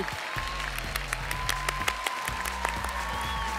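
Sustained audience applause at a live X Factor concert, dense steady clapping filling the hall with a tonal hum and music faintly underneath.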